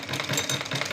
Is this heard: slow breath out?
no